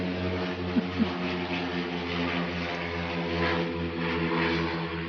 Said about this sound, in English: Now we have an airplane going over.